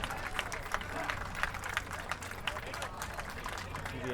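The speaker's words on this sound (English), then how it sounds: "One round of applause for our seniors." A crowd applauds the senior players at a Braintree High School rugby game against Hingham, with scattered outdoor clapping and crowd noise holding steady throughout under a loud ambient wash.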